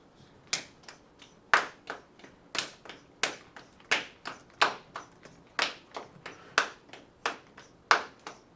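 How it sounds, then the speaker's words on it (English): Rhythmic hand clapping of a counted palmas pattern from a music class, about fifteen sharp claps in a steady beat with some accented louder, close and clear with no talking. "So let's go ahead and clap and count."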